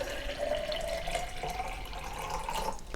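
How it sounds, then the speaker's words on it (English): Water poured into a Yeti Rambler bottle, a quiet steady trickling stream with a rising pitch as the bottle fills, faint and alone. "So I'm going to pour the water"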